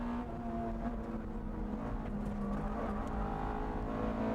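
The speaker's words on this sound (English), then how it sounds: "Orito's MRS catches up with the Hachiroku with incredible speed" A Toyota MR-S and an AE86 Hachiroku race flat out through a high-speed sector, producing a steady, loud engine drone with a sustained tonal whine throughout and no pauses.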